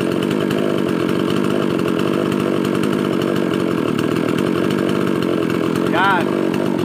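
A mini chainsaw engine runs continuously and loudly up close while its carburetor is adjusted, with a brief rising whine near the end as the revs change.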